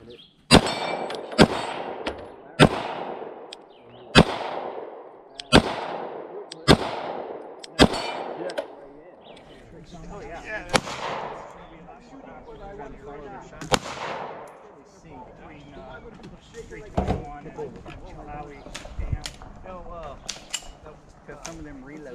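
Handgun shots fired with light reloaded ammunition at a shooting challenge, a rapid series of about eight sharp, loud cracks with ringing metal target clangs, then scattered quieter impacts as people talk.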